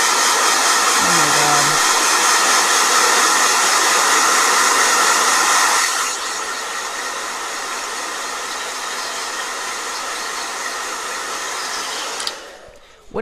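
A blow dryer running close by, a loud continuous whirring roar that drops to a lower, softer setting partway through, then cuts off near the end.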